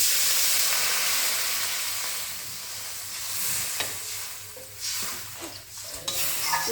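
Water poured into a frying fish curry of tilapia and masala paste sets off a loud, hissing burst of sizzle that settles into a softer bubbling under occasional stirring scrapes, close by with no talk.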